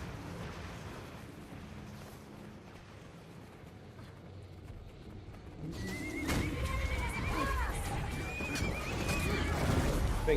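Horse whinnies from a legendary weapon that fires unicorns in Guild Wars 2 burst in partway through, several neighs with clattering hooves over rumbling explosive game combat.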